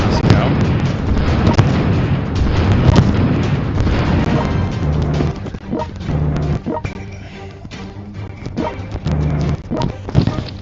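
Bombing of Moscow in the strategy video game World Conqueror 4 brings a dense barrage of booming explosions, loud and heavy at first, then thinning into scattered blasts and thuds over a lower rumble.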